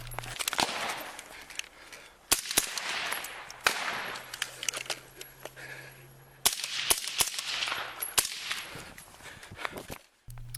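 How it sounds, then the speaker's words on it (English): Gunfire from a police shootout between an officer firing a service rifle and an armed suspect cracks out in sharp, loud shots, some single and some in quick bursts, spread across a noisy outdoor scene from a doorbell camera. "The same ring camera captured the shootout between the suspect and officer."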